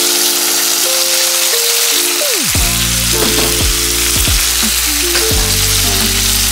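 Fish fries in olive oil in a pan with a loud, dense, continuous sizzle up close, and scattered clinks and rattles mix in.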